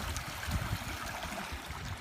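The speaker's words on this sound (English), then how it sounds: "We're next to a little stream" A small stream flows steadily beside a wild campsite during a storm, a continuous close wash of running water with broadband hiss and low rumble throughout, no voices.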